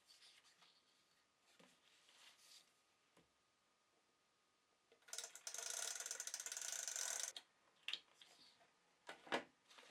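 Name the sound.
tape gun dispensing tape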